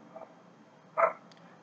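A dog barks outdoors, one short sharp bark standing out over a quiet background with a fainter yip just before it.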